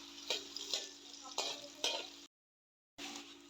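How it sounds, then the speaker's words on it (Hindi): Chopped onions sizzling and being stirred in hot oil in a pan, with a steady frying hiss broken by several sharp scraping stirs, then a short silent gap before the sizzle resumes. "प्याज को फ्राई करेंगे।"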